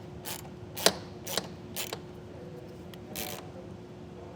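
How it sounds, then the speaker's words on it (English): An 11 mm wrench and socket ratchet as bolts are tightened during a soft roll-up tonneau cover install on a 2024 Ram 1500 pickup, giving a few short, quiet clicking bursts with pauses between them. "We're going to take a 11 millimeter wrench and socket, and then tighten these down."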